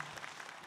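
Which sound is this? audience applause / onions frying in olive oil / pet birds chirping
audience applause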